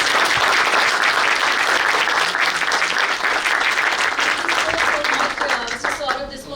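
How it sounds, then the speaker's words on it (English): An audience at a cybersecurity masterclass gives loud, sustained applause, thick clapping that gradually fades in the last seconds as a voice starts speaking over it. "show us by the applaud how much you liked today's session"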